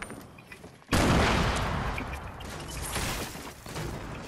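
Explosions from grenades in the video game Fortnite: one sudden loud blast followed by sustained rumbling and crackling debris, with a second swell partway through, close and dominant, with no talking.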